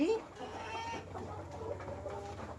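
Chickens at a native chicken farm cluck in short, repeated bursts over a steady background murmur, fairly close and moderately loud.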